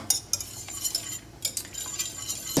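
Gelatin being stirred in a saucepan over low heat for panna cotta, a series of light, quick metallic clinks and scrapes of a utensil against the pan, close and fairly quiet.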